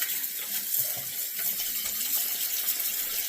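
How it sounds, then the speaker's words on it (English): Water poured out of a shaving bowl into a sink, a continuous splashing gush that runs steadily for several seconds. "I'm gonna go ahead and dump the water out of my bowl"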